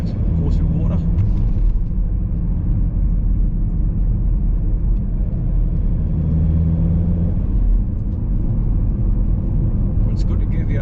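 A diesel car driving out of Askrigg sends up a steady, continuous low engine rumble with road noise. It is close and loud, holds even throughout, and a few faint higher clicks come through on top.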